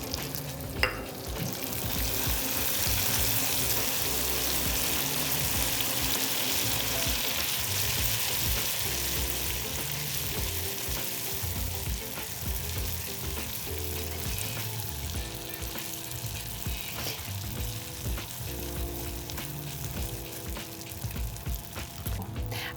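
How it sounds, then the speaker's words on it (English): Soft butter being stirred with a spatula into very hot caramel, giving a steady, loud sizzle and bubbling hiss throughout with continuous scraping and stirring and no talking. "I'm going to mix everything with a spatula."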